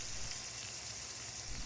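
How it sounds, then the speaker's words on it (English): Filet mignon sears in a preheated, oiled frying pan, giving a steady, loud, close sizzle and hiss that holds evenly throughout without any talking. "Let's go ahead and preheat the frying pan and apply oil. The first filet mignon goes in."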